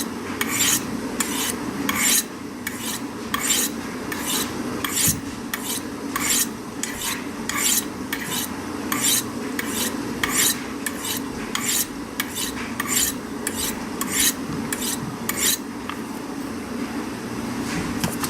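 Knife blade drawn over the white ceramic corner stones of a Spyderco Sharpmaker, giving about twenty-five evenly spaced, bright scraping strokes against a low steady background hum.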